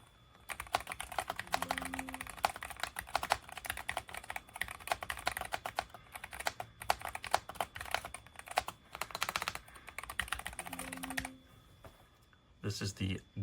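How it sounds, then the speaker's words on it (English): Rapid, continuous typing on a SteelSeries Apex Pro Gen 3 keyboard with OmniPoint 3.0 hypermagnetic switches, dense close clicking that pauses briefly near the end before a few final keystrokes. "this is the loudness of the keyboard."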